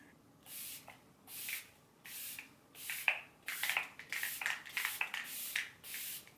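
Repeated bursts of a continuous-mist makeup setting spray, about ten hissing sprays in a steady rhythm, close and fairly quiet with no talking.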